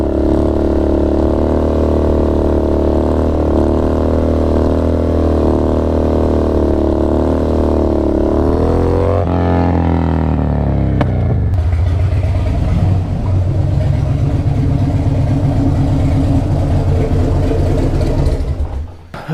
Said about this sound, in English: first ride back with the Dyna and the new setup